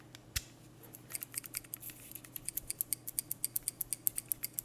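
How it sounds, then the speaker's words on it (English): A loose part rattles inside a Xiaomi Wowstick 1F+ electric screwdriver, heard as a quick, faint run of light clicks that repeat in an uneven rhythm as the tool is shaken close by. "This one has a rattle as well, an internal rattle, so something came undone within it."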